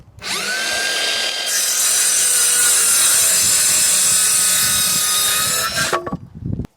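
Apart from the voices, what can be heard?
sawing timber pieces for a log store frame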